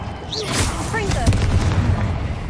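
A Confringo fire explosion spell goes off in the Hogwarts Legacy video game, a booming, crackling blast with whistling streaks over a short, loud burst, while a voice speaks.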